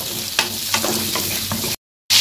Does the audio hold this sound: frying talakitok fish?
yes